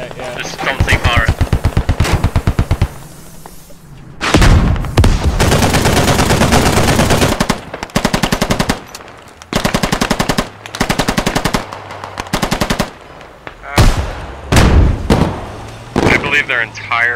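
Coaxial machine gun on an armored vehicle in the Squad military shooter game fires long rapid bursts, loud and close, separated by short gaps, with players talking over the gunfire.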